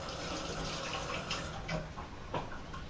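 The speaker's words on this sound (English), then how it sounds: "I just want to rinse my hands here quickly." Tap water runs steadily into a kitchen sink while hands are rinsed under it, a continuous close hiss with small splashy bursts, with no talking.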